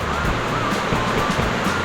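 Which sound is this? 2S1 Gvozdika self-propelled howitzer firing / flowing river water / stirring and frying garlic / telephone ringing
flowing river water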